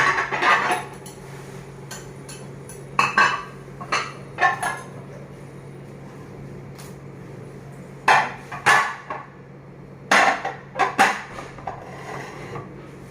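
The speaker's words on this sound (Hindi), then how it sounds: "सारे बर्तनों को वैसे तो मैंने वहीं से धो के मंगाया था, लेकिन यहाँ पर एक बार और धो ले रही हूँ" Utensils and plates being washed in a kitchen, with scattered bursts of clinking and clattering dishes over a low background hum.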